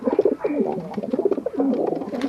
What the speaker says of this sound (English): There we are, some birds in the aviary.